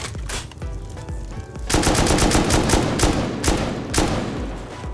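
Rapid explosive-ammo gunfire from the game Rust pounds a metal building in a raid, dense machine-gun-like bursts with sharp cracks, loud and continuous with short pauses.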